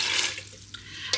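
Water or stock is poured into a Ninja Foodi pot, a steady close splashing pour that thins out toward the end, followed by a faint knock.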